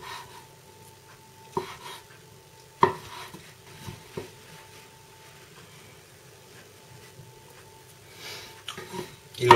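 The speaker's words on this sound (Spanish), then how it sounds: "El palito de cangrejo también lo vamos a picar." A knife chops crab sticks on a cutting board in scattered, irregular thuds with quiet pauses between strokes, close by.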